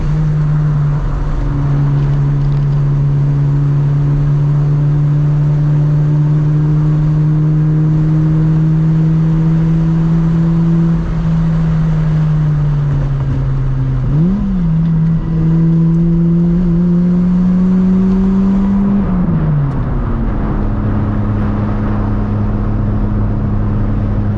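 A Mazda FC RX7 with a new suspension setup drives on a mountain road, its engine droning loudly and steadily, rising through revs, dipping on shifts, then pulling again, with constant close cabin engine noise.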